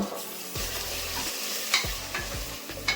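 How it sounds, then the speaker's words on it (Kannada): Drumstick (moringa pod) pieces sizzle in hot tempering oil while a spoon scrapes and stirs, giving a steady close crackle with a few sharper knocks. "ಇವಾಗ ನುಗ್ಗೆಕಾಯಿ ಎಲ್ಲ ಸ್ವಲ್ಪ ಒಗ್ಗರಣೆಯಲ್ಲೇ ಸ್ವಲ್ಪ ಬಾಡ್ಸ್ಕೊಂಬೋಣ"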